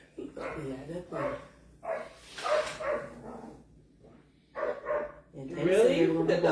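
A dog barks several times in short bursts amid people talking, the barks mixed closely with the voices in a room.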